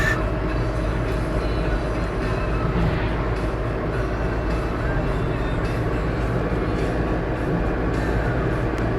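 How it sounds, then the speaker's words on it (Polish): A narrow-gauge railway train rolls past near Jurków on the Wiślica–Pińczów line, giving a steady, loud low rumble with wheel and carriage clatter that lasts throughout. "Dudut i mamy z lewej strony kolejkę już."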